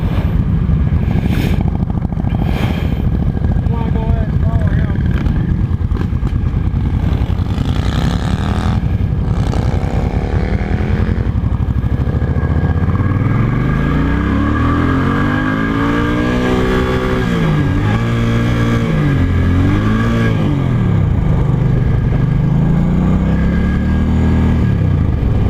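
A Yamaha V-Star cruiser motorcycle rides and revs, its engine rising and falling through repeated throttle sweeps and gear changes, loud and close, with wind noise and no talk.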